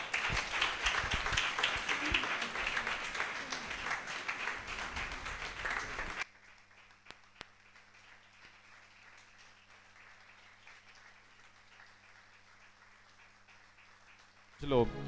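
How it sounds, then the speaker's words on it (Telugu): A church audience claps together at a building dedication service, with dense, loud applause and voices for about six seconds before it drops to near silence. "మనందరం కూడా చప్పట్లు కొడదాము"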